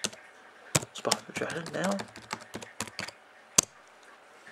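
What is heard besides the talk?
typing on a computer keyboard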